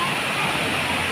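Clean stream water flows in a natural outdoor setting, making a continuous, loud, close rushing hiss like a small waterfall that holds steady throughout.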